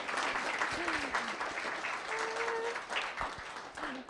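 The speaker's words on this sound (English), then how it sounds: "please give a round of applause to these 2 incredible individuals" Steady applause fills a Los Gatos town council meeting room, a dense wash of many hands clapping continuously at moderate distance, with a faint whistle or tone rising briefly through it.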